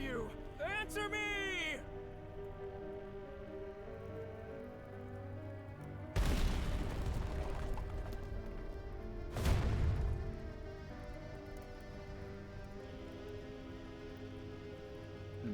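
Video game explosions from AI: The Somnium Files nirvanA Initiative: two sudden heavy booms a few seconds apart, each with a rumbling decay, set against quieter game sounds and a brief opening chime.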